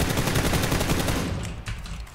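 Rapid bursts of video game gunfire crackle loudly through the first half, then fade into quieter rumbling and scattered shots.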